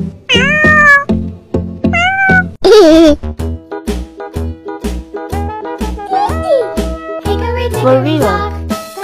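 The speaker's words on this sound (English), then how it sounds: "Cat." A cartoon cat meows repeatedly in short rising-falling calls, loud and close, interleaved with bright musical notes and a steady rhythmic backing in a children's animal-sounds song.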